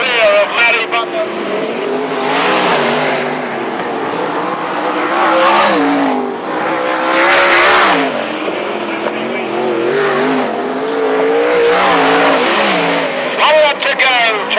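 Sprint cars racing at Mac's Speedway, engines roaring loud and steady as they lap the dirt oval, pitch rising and falling with passing cars, under continuous commentary.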